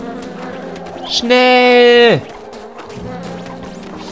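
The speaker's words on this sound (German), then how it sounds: "Ein Bienenstock voller Bienen." A swarm of bees in a Phineas and Ferb video game gives a loud, close, sustained buzzing drone lasting about a second before it bends downward and fades, with game sounds around it and a brief spoken word.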